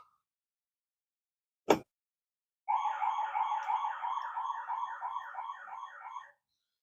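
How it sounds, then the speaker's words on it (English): A driveway alarm sounds a run of rapid, pulsing electronic chime tones for about four seconds, loud and close. A sharp click comes just before it, and no one speaks. "that's a driveway alarm"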